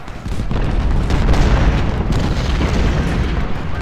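Dense, continuous battle din of massed musket and cannon fire in the Civil War strategy game Ultimate General: Civil War, booming steadily and loudly for the whole stretch with no speech over it.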